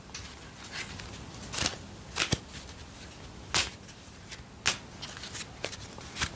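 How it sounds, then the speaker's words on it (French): A deck of oracle cards shuffled by hand close up, soft papery riffles and flicks with several sharper snaps spaced irregularly, quiet and intimate with no talk. "Je suis pas très fort pour mélanger les cartes."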